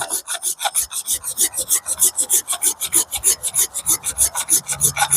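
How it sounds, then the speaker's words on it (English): Silky pull-stroke hand saw cutting through wood outdoors, a fast steady rasping rhythm of close, loud strokes repeating without pause and no talking. "these silky saws, they only cut on the pull stroke, so you do have to be careful when you're cutting through stuff"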